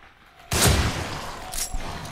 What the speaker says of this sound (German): die explodieren alle jetzt